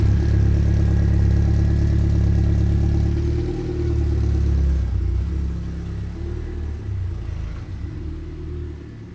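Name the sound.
car engine cold start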